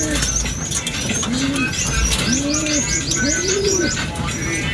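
Young homing pigeons coo in repeated rising-and-falling calls close by, several overlapping birds with soft chirps mixed in, over constant background hiss during road-training.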